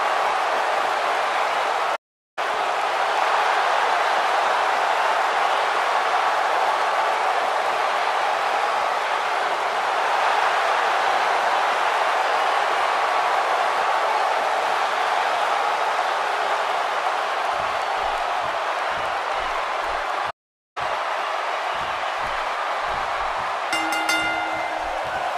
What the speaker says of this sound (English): Would you listen to this crowd?